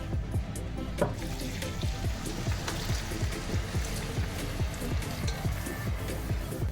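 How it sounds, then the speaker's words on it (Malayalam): Cooked chicken and its cooking water go into a sizzling pan of tomatoes, producing a continuous frying hiss with rhythmic stirring scrapes and splashes, steady and moderately loud, with no voices. "ഇതിലോട്ട് വേവിച്ച് വെച്ചിരിക്കുന്ന ചിക്കൻ ഉണ്ടല്ലോ, അപ്പോൾ ഇത്രയും വെള്ളമുണ്ട് ചിക്കൻ്റെ കേട്ടോ, വെള്ളമോട് ചേർത്ത് ഇതിലോട്ടങ്ങ് ഒഴിച്ചു കൊടുക്കാം"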